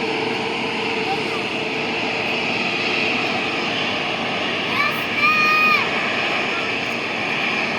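At Mumbai international airport, an airplane comes in to land, its jet engines giving a steady, distant roar that swells briefly, while people nearby talk.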